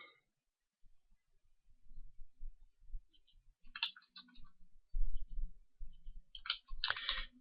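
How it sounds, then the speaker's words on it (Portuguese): Sparse clicks of a computer keyboard being typed on, in short irregular bursts with pauses between them, close and quiet, alongside some low thumps. "Eu escrevo aqui no teclado e já aparece pra gente."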